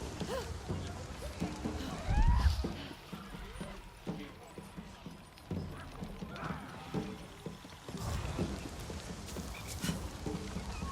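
Hooves of a dire horse clip-clop in the Avatar video game, with whinnies, mechanical clanks and ambient effects around them and a voice talking at times.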